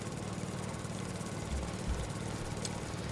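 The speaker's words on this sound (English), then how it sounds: "Let's get the push mower." A push mower engine in Farming Simulator 22 drones at a steady low idle, a constant motor hum with a couple of brief heavier throbs partway through.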